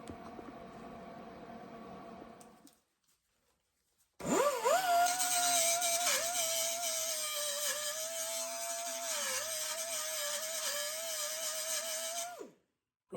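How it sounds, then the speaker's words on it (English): An angle grinder works over welded pinholes on a 1972 VW Super Beetle body: a short burst of grinding, a pause, then the tool spins up with a rising whine and grinds loudly and steadily before winding down. "I believe I have all the little pinholes welded up, so now I'll hit them with the grinder"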